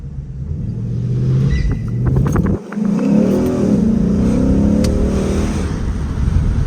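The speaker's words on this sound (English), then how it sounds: "We are going to do a little launch here." A Ford Mustang GT launches hard from a stop, its loud V8 exhaust roaring and revving up through a brief gear-change dip before pulling steadily onward, close and with no talk.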